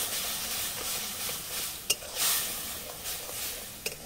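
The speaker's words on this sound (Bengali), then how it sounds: "আর জল দিয়ে মশলাটাকে ভালোভাবে কষে নিতে হবে।" Spice paste with chili powder and water sautés in a pan for a fish curry, a soft continuous hiss and sizzle broken by a few sharp taps of a spoon against the pan.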